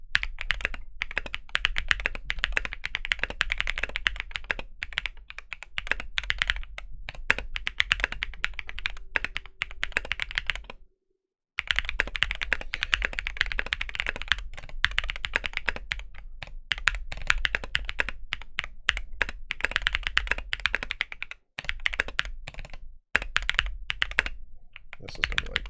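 Fast, continuous typing on a mechanical keyboard with MT3 Sarika keycaps, dense close-up clacks and taps with two brief pauses, and no talking.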